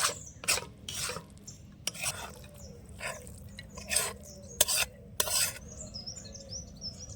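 Cabbage filling with chopped coriander and green chilli being mixed in a bowl, a series of separate scraping, rubbing strokes at an irregular pace, close up, with faint bird chirps in the background.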